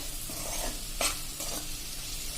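Chilies frying in a pan over a low flame are stirred, giving a soft steady sizzle with a few brief scraping strokes, close and fairly quiet, with no talking.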